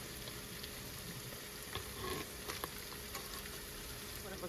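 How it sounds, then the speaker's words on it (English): Strawberry bagels boiling three at a time in a pot of water, a steady soft bubbling and hiss that stays constant and faint throughout with no talking. "I'm only going to cook 3 at a time, 1 minute on each side in this boiling water."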